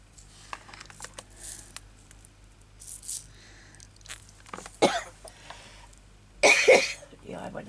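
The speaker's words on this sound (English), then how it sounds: "I hope I don't start coughing again" Someone coughs and clears their throat in short bursts, near and fairly loud, with a louder cluster near the end and quiet handling noises between.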